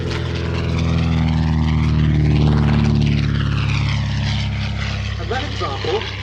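A Miles Hawk Speed Six open-cockpit racing monoplane with a 220 horsepower Gipsy Six R engine flies past at an air show, its propeller drone swelling and falling in pitch as it passes, loud and continuous, with a commentator talking over it.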